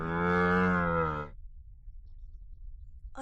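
A person's voice imitates a camel's cry: one loud, drawn-out groaning bellow lasting just over a second, followed by near silence.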